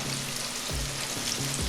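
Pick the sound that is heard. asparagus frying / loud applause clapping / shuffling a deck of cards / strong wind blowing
asparagus frying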